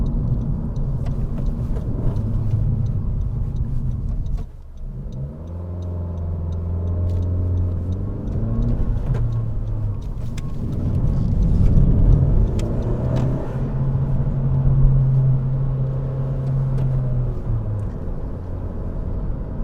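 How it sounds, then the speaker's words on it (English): A 2017 Honda Civic Si with 100,000 miles is heard from inside while driving, with a steady road and engine rumble, tyre whir and gentle swells as it speeds up. "it might be a little bit more noisier compared to the competition, but it continues to be like a very well-riding car"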